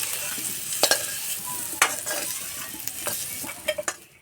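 Young jackfruit frying in a pan while being stirred, a steady close sizzle broken by sharp scraping clinks of the spatula at irregular moments.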